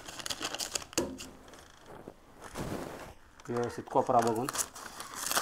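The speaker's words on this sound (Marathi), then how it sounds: "जी राहिलेली बाजू होती ती आपल्याला अशा पद्धतीने ह्या कोपऱ्यांमध्ये आपल्याला थोडीशी कापून घ्यायची" Corners of an empty oil tin are cut, giving crinkly metallic snips and rustling crackles in uneven bursts while a person talks over the work.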